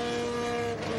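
A Honda IndyCar engine at the 2004 IRL Nashville race is revved hard in the pits, a loud sustained mechanical whine with steady tonal harmonics that dips briefly near the end.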